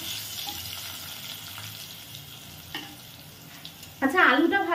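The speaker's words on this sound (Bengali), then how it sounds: "আচ্ছা আলুটা ভাজা হোক" Potatoes fry in a pan of hot oil for a home-style duck egg curry: a steady, soft sizzle with faint clinks, then a louder, brighter burst of crackling near the end.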